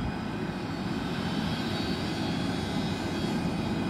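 A steady, loud jet engine drone surrounds a Scoot Tiger Air Airbus A320 as it sits ready for pushback by a pushback car on an airport apron, with no break in the roar.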